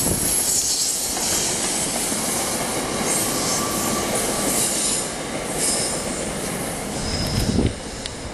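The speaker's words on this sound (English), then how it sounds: "Ooh, train." A train passes close by on the rails beneath the South Street Bridge, its loud, steady rumble and rattle filling the scene, with wheel squeal and clatter rising and fading near the end.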